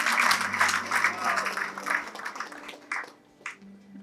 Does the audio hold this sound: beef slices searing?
no